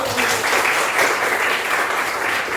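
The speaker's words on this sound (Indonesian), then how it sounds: "Tepuk tangan dulu." Students in an Indonesian classroom clap together after a classmate answers a volleyball lesson question, a dense, steady burst of applause lasting a few seconds.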